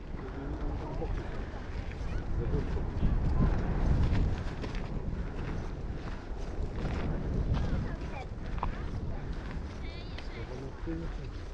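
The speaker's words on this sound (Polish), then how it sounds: "Wybucha jak gejzer co parę minut." A volcanic vent at Geldingadalur, Iceland, erupts like a geyser with a loud, hissing roar and deep rumbling surges, while people talk nearby.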